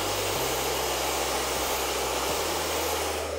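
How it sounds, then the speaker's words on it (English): A blow dryer fitted with a nozzle rough-drying hair, running as a steady, loud, close whoosh throughout with a slight shift in pitch, no talking over it. "I'm gonna be using a blow dryer with a nozzle on."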